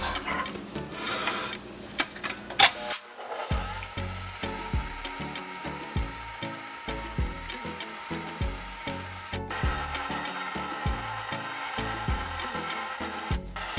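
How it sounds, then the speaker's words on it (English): A KitchenAid stand mixer beats peanut butter and carrot dog cake batter: after a brief clatter, the motor settles into a steady, close whir with a rhythmic thumping pulse that runs to the end, with no talking. "I'm just going to use my KitchenAid. Okay. Go, mix this up."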